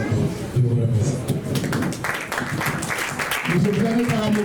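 Audience applauding at a recognition ceremony in Koumassi, steady dense clapping throughout with voices talking over it.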